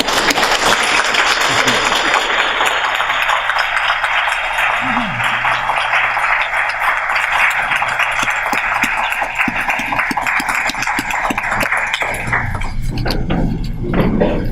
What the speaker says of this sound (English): So we stand up and give her a round of applause.